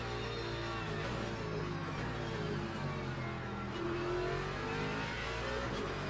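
Hypercar engine in a racing video game, a sustained steady roar with slight pitch shifts that continues alone at a moderate level throughout.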